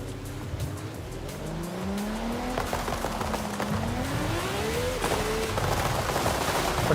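Race cars roar through a video game race, engines rising and falling in pitch with repeated tire squeals and skids, loud and continuous over several seconds.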